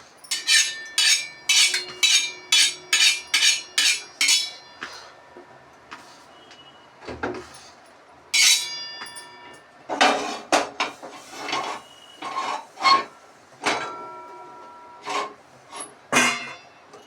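A clay griddle used for jowar rotis is washed with hot water, with rhythmic close rubbing and scraping strokes in quick runs, then slower, irregular scrubs and clinks.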